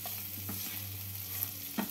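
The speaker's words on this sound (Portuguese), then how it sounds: "o filé tá aqui, fritando" Beef fillet frying in a pan with turmeric, a close, steady sizzle with a few soft stirring knocks and a low hum underneath, no talking.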